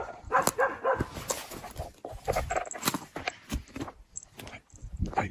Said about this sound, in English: I just can't get over there quickly to be able to see what she's barking at.